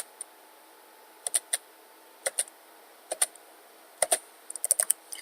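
Quiet clicks of a computer keyboard as credit card details are typed in, coming in short irregular bursts of keystrokes with brief gaps between them, alone in a faint room hush.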